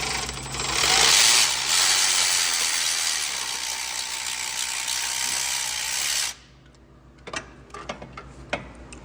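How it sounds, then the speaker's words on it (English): A cordless electric ratchet spins out a starter bolt on a 2016-2021 Honda Civic 1.5T, a loud sustained whirring buzz for about six seconds that stops abruptly, followed by a few faint clicks and taps. "I'm just going to use my electric ratchet to zap it out."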